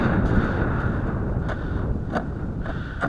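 Steady winter wind buffets the microphone during ice fishing in a continuous rough roar, with a few brief sharper gusts cutting through.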